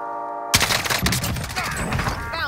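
Dense incoming gunfire in Call of Duty Warzone bursts in abruptly after a quiet tone, a loud rapid fusillade of overlapping shots that continues throughout, with a faint voice beneath.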